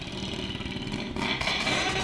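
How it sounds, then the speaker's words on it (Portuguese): A motorcycle engine with an Amoeba exhaust holds at high revs, buzzing and stuttering loudly as it bounces off the limiter. "Vamos ouvir aqui o corte de giro com a Amoeba no escape."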